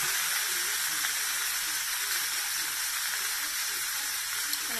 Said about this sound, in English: Let that saute